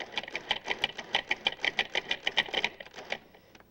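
A food processor pulses dog biscuit dough in a kitchen, a quick run of about twenty short, even bursts of whirring motor and chopping that stop just before the end, with no talking.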